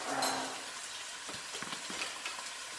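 Sliced ginger, celery and mushrooms sizzling in a pan for a braised Chinese pork belly casserole, a close, quiet, steady fry with soft stirring scrapes and no voices.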